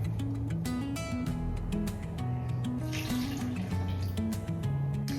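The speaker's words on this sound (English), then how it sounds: "Now we're going to add 2/3 cup of water." Water pours steadily into sourdough pretzel dough in a mixing bowl, a continuous close trickle with no talk over it.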